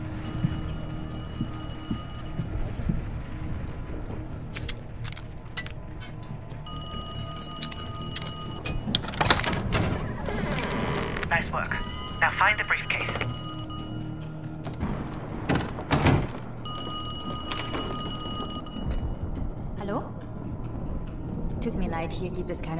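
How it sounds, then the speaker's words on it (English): In Call of Duty: Black Ops Cold War, a telephone rings in an apartment, repeated bursts of ringing with pauses between them, over game ambience, thumps and background noise. "I'm about to phone Kraus's apartment"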